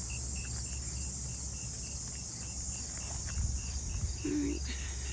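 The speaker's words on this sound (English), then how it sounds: "There's a loud cricket." A loud cricket chirps in a garden in mid-September, a steady pulsing trill running throughout at close range, with faint rustling and a brief low thump near the end.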